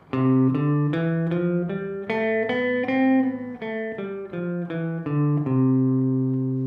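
Guitar plays a complete scale across three strings, one plucked note after another in an even stepwise run. The notes are clear and sustained, and the final note rings out alone.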